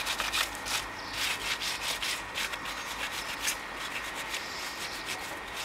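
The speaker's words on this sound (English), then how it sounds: "Give it a firm rubbing." Firm rubbing on tile grout, a steady scrubbing sound of repeated strokes with a raspy, sanding-like texture, close and moderately quiet with no talk.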